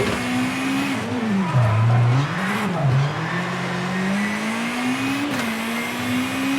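Rally car engine in V-Rally 4 on a slippery course with jumps, revving steadily with rising and falling pitch and a dip and swell near the start, loud and continuous with no talk.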